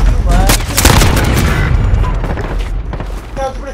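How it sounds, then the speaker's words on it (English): A grenade blast booms amid a burst of gunfire in the shooter game Call of Duty: Modern Warfare, loud and close at the start, then fading into scattered shots and battlefield noise. "That's a grenade."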